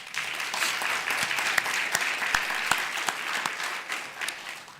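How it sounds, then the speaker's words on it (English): An audience at a State Bar of Georgia board meeting claps together in steady, moderately loud applause with a few sharp individual claps standing out, lasting several seconds before tapering slightly. "So hand clap."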